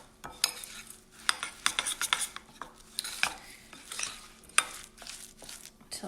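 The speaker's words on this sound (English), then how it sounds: "I'm gonna stir all that up." A spoon stirs crisp topping with salt, cinnamon and coconut oil in a bowl for a strawberry rhubarb crisp: irregular scraping and clinking strokes against the bowl, close up, with no voices.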